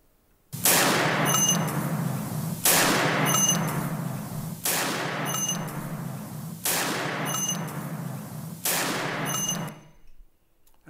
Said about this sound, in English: You heard gunshots and nobody moved.